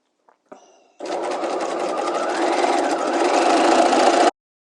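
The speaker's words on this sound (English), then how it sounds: "I'm going to stay stitch the edge here of this part of the garment that's going to be sewn into at a 1/2 inch" Sewing machine stay stitching along a garment edge at a half-inch seam allowance, running steadily and loud for about three seconds after a couple of brief clicks.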